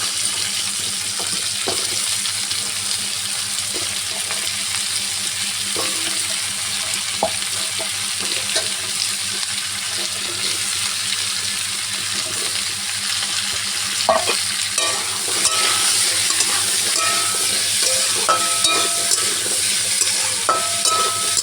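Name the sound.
potatoes frying and being stirred in a pan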